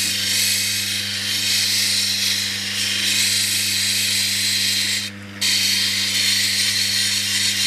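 A lapidary grinding wheel at 3000 grit polishes a raw Australian opal, giving a loud continuous motor hum with a steady hiss of stone on wheel that breaks briefly once.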